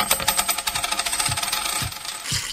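A stream of gold coins pours out, clinking and jingling in a rapid rhythm. It is fairly loud and continuous for about two and a half seconds, with no talking.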